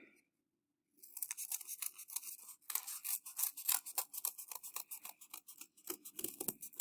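Scissors snip through a paper pattern for a clay slab pot, a steady run of close, crisp cuts and rustles after a brief silence, with no talking.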